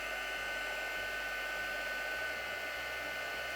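A heat gun blows hot air with a steady, even roar and a constant whine, close and unbroken for several seconds with no voices.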